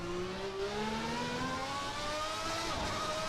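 Ferrari 641 Formula One car with a V12 engine lapping Monza in Assetto Corsa, a sustained high-pitched engine scream with rising pitch sweeps as it accelerates through the gears, loud and close throughout.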